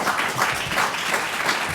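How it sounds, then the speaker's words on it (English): An audience at a data protection law conference award session gives the panel members a short, even burst of applause. "Please give an applause to the panel members."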